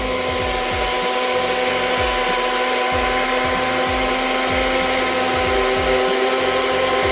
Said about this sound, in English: put it in my NutriBullet. I'm gonna let this mix until it's nice and fluffy